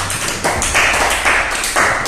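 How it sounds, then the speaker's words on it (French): Dense audience applause fills the room, a steady wash of many hands clapping with gentle swells in intensity, loud and continuous without voices. "Applaudissez encore."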